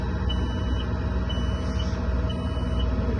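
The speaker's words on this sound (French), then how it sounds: "c'est un tracteur avec de l'air, c'est pour ça qu'il bip" Repeated warning beeps from a truck tractor unit as its air pressure builds after the engine starts, a steady high-pitched tone pulsing over the continuous low rumble of the idling diesel.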